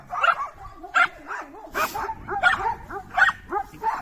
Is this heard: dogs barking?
yes